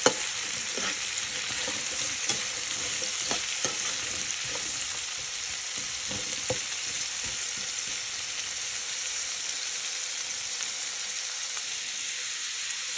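Vegetables, cubed eggs, black pepper and salt are stirred in a hot pan for a Filipino curry, giving a steady close sizzle with scattered light scraping and clinks from the utensil.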